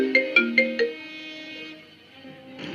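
A phone ringtone plays as a call is placed to the police, four bright chiming tones in quick succession followed by a sustained electronic tone, close and clear with no talking.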